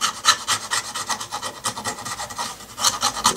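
Short stubby screwdriver scraping old foam residue off the edge of an OEM Toyota Sequoia/Tundra speaker cone, a close, steady raspy rubbing in quick repeated strokes with no talking.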